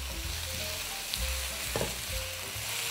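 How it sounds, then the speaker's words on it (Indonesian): Vegetables and tofu being stirred in a cooking pot for a light clear vegetable soup with white cabbage and mustard greens give off a steady soft sizzle and bubbling, with faint utensil scrapes and occasional knocks, close and quiet, no talking. "Ini kita aduk terus, masukkan cabai"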